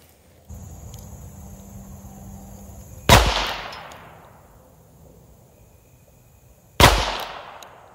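A Colt King Cobra Target .22 revolver fires two loud, close shots at a target, several seconds apart, each a sharp crack with a ringing decay over a quiet outdoor hum.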